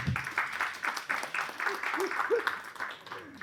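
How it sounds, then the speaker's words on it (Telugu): An audience at a movie press meet applauds, a fairly close patter of scattered claps running throughout, mixed with some murmured voices. "చప్పట్లు కొట్టండి ప్లీజ్."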